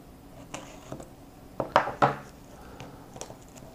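A blade cuts through tight plastic packaging around a vape tank and accessories in a few short, close crackling slices, with quieter handling clicks before and after.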